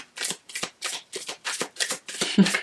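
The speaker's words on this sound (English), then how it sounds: "One more shuffle." A deck of oracle cards is shuffled by hand in about eight quick rhythmic riffles, crisp and close, with short pauses between them.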